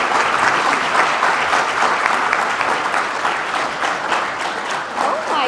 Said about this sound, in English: Can she get another round of applause, please?